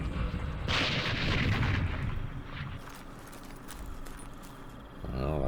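Artillery fire in the Vietnam War strategy game Campaign Series Vietnam, Battle of Hue: a continuous rumbling barrage of heavy blasts and crackling, loud and sustained, with a fresh burst near the end.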